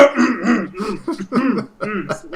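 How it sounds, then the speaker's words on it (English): A person clears their throat several times in quick, rough bursts, close up. "I gotta clear my throat."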